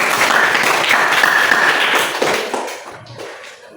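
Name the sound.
applause from a classroom audience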